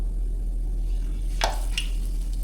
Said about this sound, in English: Listen for that sizzle, for that frying sound.